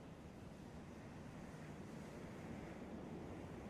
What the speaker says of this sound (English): The ocean is pretty calming.